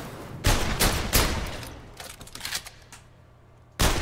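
Gunshots in a VR shooting game ring out as several sharp, loud cracks at irregular intervals, a quick cluster early, a scattered few in the middle and one more at the end, with no talking.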